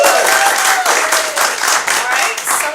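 An improv theater audience claps together in a dense, loud wave of applause that swells and dips slightly, with some voices mixed in.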